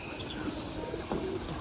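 Released homing pigeons calling as they circle above a keeper's loft: soft, brief coos and chirps rise now and then over a steady outdoor background, moderately close, with no talking.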